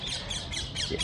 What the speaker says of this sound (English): These are parakeets actually.